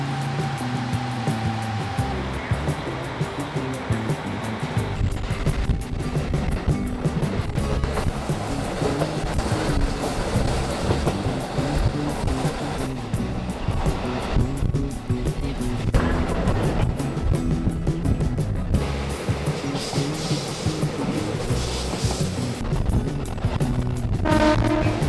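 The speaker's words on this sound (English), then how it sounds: "now I'm riding the red train" Inside a red local train in Hokkaido, a steady, loud rumble and rattle of wheels and carriage runs without pause for the whole ride.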